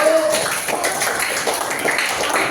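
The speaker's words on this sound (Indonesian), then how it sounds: "Tepuk tangan dulu untuk Salsa." A classroom of students claps for a classmate in an Islamic jurisprudence lesson, a dense, steady patter of many hands with some voices and noise mixed in.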